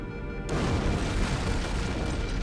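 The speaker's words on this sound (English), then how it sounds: "I'd guess an antimatter charge." An antimatter charge explodes in Halo CE with a sudden loud blast, then a sustained roaring rumble that fills the space without fading.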